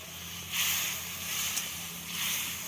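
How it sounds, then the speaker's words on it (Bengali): Onions lightly frying in hot oil while being stirred for an egg and poppy-seed curry, with soft sizzling swelling into three hissing bursts over a quiet background. "পেঁয়াজ বেশি ভাজার দরকার নেই, খুব অল্প সময় তেলের মধ্যে নেড়ে চেড়ে হালকা ভেজে নিলেই হয়ে যাবে।"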